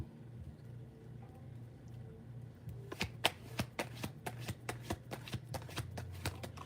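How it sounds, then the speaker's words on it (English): Tarot cards being shuffled from two different decks, a rapid series of crisp riffling slaps that start a few seconds in and repeat close to the mic, with a low steady hum underneath and no talking. "Y'all see me shuffling on camera"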